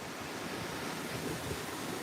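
Ocean waves wash onto a Texas Gulf Coast beach at Padre Island, a steady broadband surf roar with wind buffeting the microphone, no voices.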